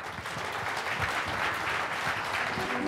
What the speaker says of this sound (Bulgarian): Госпожи и господа, вашите аплодисменти за Божидар Бацов.